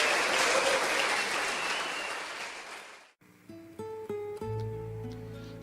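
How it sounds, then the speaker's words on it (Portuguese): A church congregation applauds loudly in a dense wash of clapping that fades out after about three seconds, followed by soft sustained keyboard notes. "vamos dar um aplauso a Jesus"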